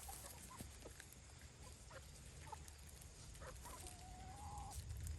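Chickens eating feed and corn kernels nearby, soft intermittent clucks and pecking over a steady outdoor background hum, with one drawn-out rising call near the end.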